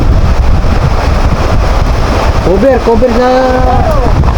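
Loud rushing wind and heavy rain roar close to the microphone, with a person's voice briefly heard partway through.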